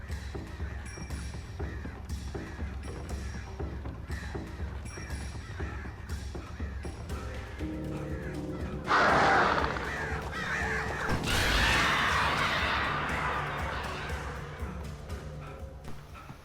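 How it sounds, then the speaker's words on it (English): Crows cawing in the video game Alan Wake 2, set near very old stone walls: repeated harsh caws over a low ambient drone, with a thump and a louder swell of noise partway through. "we're not gonna anger the birds"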